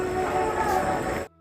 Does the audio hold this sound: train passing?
yes